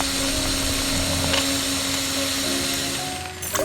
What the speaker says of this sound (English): Drill moves in, lowers the bit, and starts drilling.